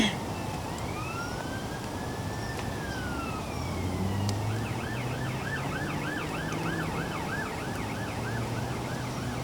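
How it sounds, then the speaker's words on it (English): Wailing emergency siren rising and falling in a fast repeated yelp over steady traffic and street noise, with an earlier slower wail sweeping up and down in the background. "at one point there's sirens"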